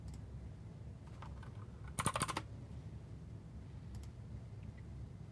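A burst of rapid keystrokes on a computer keyboard clatters for about half a second, followed later by a couple of isolated taps, all over a steady low background rumble with no talking.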